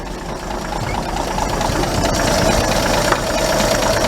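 Car engine idling after intake and exhaust manifold work, fitted with a new muffler, a steady close rumble with a slight knocking pulse that swells a little in loudness, no speech over it.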